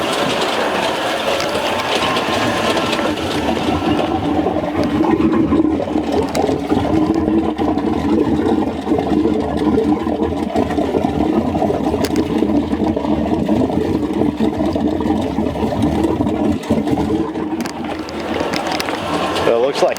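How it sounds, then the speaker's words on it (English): A boat's port engine runs steadily, with its cooling water pouring out of the exhaust. It makes a loud, continuous mechanical rumble and wash of water that holds for the whole stretch. "Okay, so I started the port engine. So let me show you actually the water coming out."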